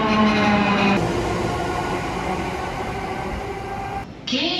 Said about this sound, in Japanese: やってきた電車に乗車したいと思います